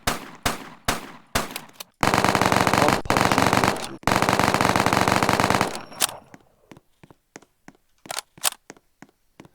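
Roblox video game guns firing: several sharp single shots, then two long rapid bursts of automatic fire, followed by scattered quieter shots trailing off.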